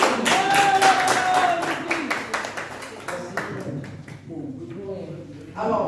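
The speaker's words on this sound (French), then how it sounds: "On applaudit très fort." Audience at a Belgian association's reflection day in Liège claps loudly, steady dense hand claps over a room murmur, with speech-like tones and a sustained pitched sound in the background, thinning toward the end.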